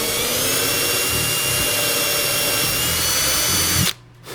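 A power drill whines steadily and loudly as it bores into a Martin acoustic guitar, running continuously before cutting off abruptly near the end.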